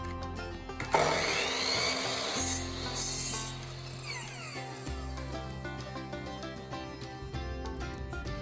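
Power saw cutting lengths of wood for model railroad benchwork, a sharp burst at the start followed by a sustained whining cut with a steady motor hum underneath, fairly close and loud.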